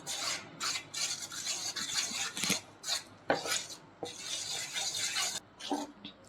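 Dosa batter mixed with coriander paste and a pinch of salt, a spoon scraping and clinking against a metal bowl in steady, close strokes with brief louder knocks.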